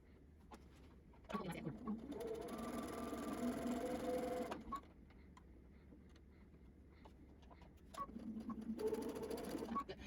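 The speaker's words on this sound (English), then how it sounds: "now you're ready to sew to the other edge" A sewing machine stitches cotton fabric for a face mask in two bursts, a close, steady rapid whirring run of about three seconds, a pause, then a second short run.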